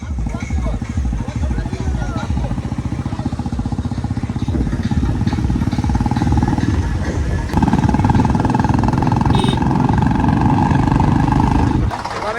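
Loud rumbling, chugging engines of Swaraj 744 and Eicher 485 tractors idling and pulling away close by, with people talking over the noise.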